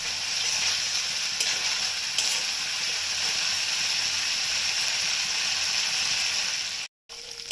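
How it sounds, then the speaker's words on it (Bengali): Chili paste sautés in a pan for restaurant-style Bengali chili soya chunks, a steady, dense sizzle that runs unbroken and then cuts out abruptly near the end. "দিয়ে এটাকে ভালো করে আমি কষিয়ে নিচ্ছি যতক্ষণ পর্যন্ত লঙ্কাটা গাঢ় না হয়"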